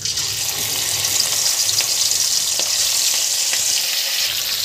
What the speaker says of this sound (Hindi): तो यहाँ मैंने फिश डाल दी है फ्राई होने के लिए